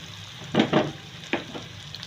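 Onions frying in a pan, a soft sizzle broken by a few short scraping stirs, close and brief.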